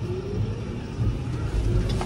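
A Fendt 720 Vario tractor engine drones as the tractor drives along, a steady moderate hum heard from the cab with slight swells in pitch.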